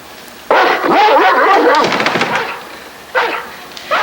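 Dog barking in a 1980s movie scene, a run of loud, close, excited barks and yelps lasting over a second, then a short second burst after a pause, with no talk over it.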